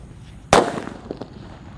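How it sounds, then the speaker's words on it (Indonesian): A small purple Disco Happy Flower firecracker goes off in one loud, sharp bang, followed by a short crackling tail that fades quickly. "di sini ada Disco Happy Flower yang warna ungu. Seperti ini guys, ukurannya kecil tapi suaranya kencang guys."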